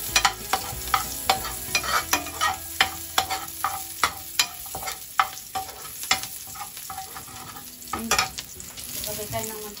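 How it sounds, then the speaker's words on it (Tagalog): Garlic sautéing in oil in a pan, with a constant crackling sizzle punctuated by roughly fifteen sharp, evenly spaced taps and scrapes of a spatula against the pan, close and clear, without any talking. "magigisa tayo ng bawang"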